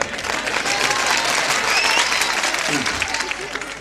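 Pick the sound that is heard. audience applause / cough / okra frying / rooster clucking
audience applause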